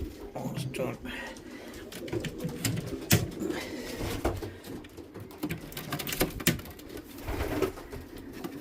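Racing pigeon cocks in a loft coo softly among sharp clicks, wing flaps and scuffling patter, while someone speaks nearby.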